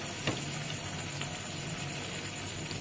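Palm fruit malpua frying in hot oil, a faint, even crackle and bubbling that runs steadily throughout with a couple of small pops and no voices.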